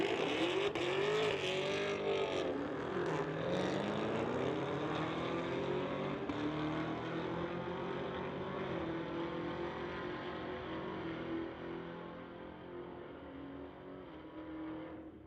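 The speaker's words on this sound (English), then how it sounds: "Keith Roberts, 2021 Camaro ZL1, going against the Dodge on the Lordco Lane." A 2021 Camaro ZL1 drag races a Dodge down a drag strip lane, a distant engine roar rising and shifting through the run before slowly fading away.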